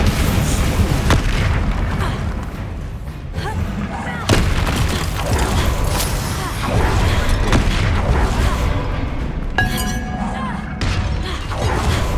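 Explosion spells cast in combat in Hogwarts Legacy land as a string of loud, close booms and crackling blasts with shattering debris, coming every second or two, with a voice occasionally mixed in.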